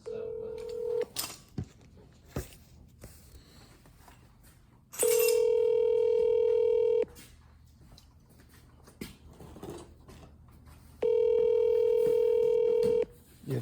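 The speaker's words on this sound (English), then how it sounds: "We're gonna call Daniel." Telephone call on speaker: a dial tone and dialing, then two long steady rings separated by a pause, with faint room chatter and handling noises between.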